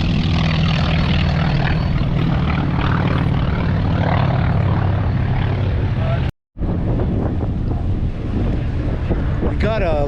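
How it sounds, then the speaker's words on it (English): Steady roar of aircraft engines at the Sun 'n Fun 2022 air show, planes taking off and flying by in formation, wind buffeting the microphone, a brief cut partway, then a lighter whine as planes pass. "Airplanes taking off and flying by in formation."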